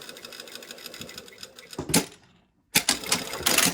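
A home sewing machine bastes a dress bodice seam at a quarter-inch allowance in two close bursts of rapid, rattling stitching, broken by a brief silent pause.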